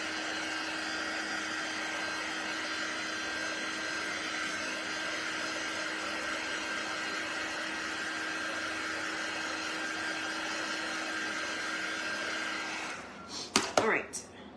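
A dryer blows steadily over paint on a canvas, a close, even whirring hum with a fixed tone that runs unbroken before stopping near the end, followed by a few brief clicks and knocks.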